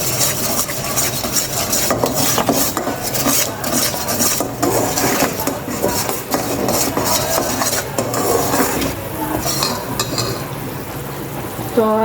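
Chili and spices stirred and frying in a pan, a steady loud sizzle layered with scraping and clinking of a spoon against the metal throughout.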